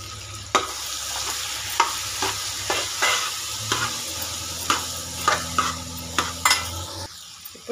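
Mixed vegetables with turmeric and chili powder frying in a pan for sambar, loudly sizzling while a spoon stirs and scrapes in frequent rhythmic strokes against the metal.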